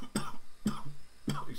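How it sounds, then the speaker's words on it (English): Three hoarse coughs, evenly spaced and fairly close, from someone with a cold, each a short chesty burst with no talk in between. "Excuse the cough, got a bit of cold."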